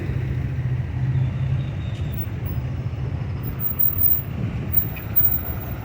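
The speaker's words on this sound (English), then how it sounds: "One thing about the traffic in El Salvador, man, they're very aggressive with the driving" Street traffic in El Salvador rumbles steadily at a close distance, with the deep drone of cars, buses and trucks holding at an even level and swelling briefly as vehicles pass.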